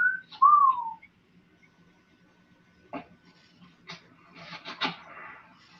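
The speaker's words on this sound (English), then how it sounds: "the cops are wolf whistling at the dead woman" A two-note wolf whistle from police officers at a crime scene in the 1972 film Frankenstein '80: a short high note, then a bright swooping call, followed by faint rustling and soft scattered sounds.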